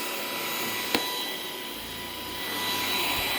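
A steady high-pitched motor whine with airy rushing from a Greenote cordless stick vacuum cleaner running on its high setting, with a brief click near the start.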